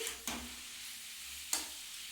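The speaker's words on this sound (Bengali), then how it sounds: "এটা গ্যাসটাকে বাড়িয়ে ভালো করে ভেজে নিচ্ছি" Cumin seeds and green chillies fry in a pan over high gas, a soft steady sizzle with two sharp scraping stirs, close but quiet.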